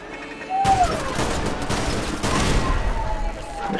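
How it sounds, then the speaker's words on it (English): In the video game Fallout London, a machine gun fires a sustained, dense rattling burst for several seconds, loud and continuous, with a brief tonal whine at the start. "Machine gun."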